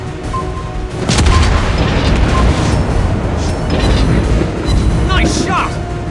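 Shell hits exploding in the naval combat game World of Warships Blitz, aboard the cruiser USS Indianapolis: heavy, loud booming blasts with rumbling low end, layered over continuous battle noise and game sound effects.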